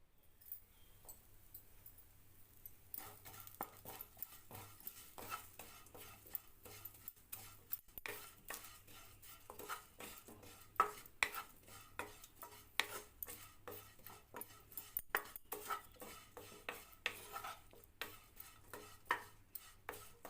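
Shallots are sautéed in a pan with turmeric, chili powder and coriander powder, with a spoon stirring and scraping in a steady, busy rhythm over a soft, continuous sizzle.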